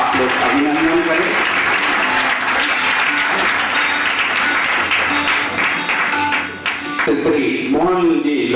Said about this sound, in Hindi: जोरदार तालियों से हमारे अतिथिगणों का आप लोग अभिनंदन करें